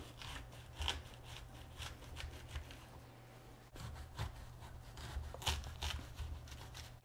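A knife cuts through an amaryllis bulb into sections, making close, quiet crunchy slicing and rubbing sounds in several short bursts with a brief pause between cuts.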